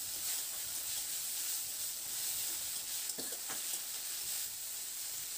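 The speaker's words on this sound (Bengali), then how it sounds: "এবার টমেটোটাকে দিয়ে একটু নাড়াচাড়া করে নেব।" Chopped tomatoes frying with onion and garlic in a pan for a ridge gourd and prawn curry, giving a steady close sizzle with a couple of brief stirring scrapes partway through.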